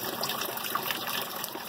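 Water drains steadily from a sandponics grow bed fed by a fish tank, a continuous soft trickle and dribble at moderate level with no talking over it.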